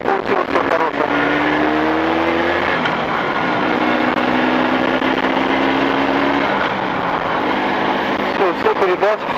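Engine fitted with Chinese cylinders being run in during +40 °C heat, a steady buzzing drone with shifting pitch as it revs through the gears, fairly loud and close, with some voice sounds mixed in.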